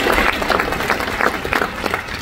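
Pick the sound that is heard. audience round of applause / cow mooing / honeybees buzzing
audience round of applause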